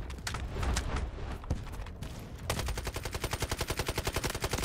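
Gunfire in the mobile shooter game Delta Force Mobile: scattered distant shots at first, then a long, rapid automatic burst of evenly spaced, punchy rounds, loud and continuous, with no talking.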